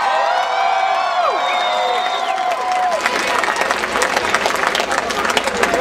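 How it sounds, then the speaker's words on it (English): Crowd at an outdoor political rally on the UW-Madison campus breaks into loud cheering and whoops that turn into sustained applause and clapping, with hubbub throughout. "Tom Barrett, please give him a big round of applause."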